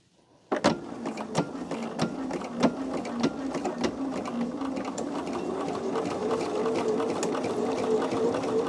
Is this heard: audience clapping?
no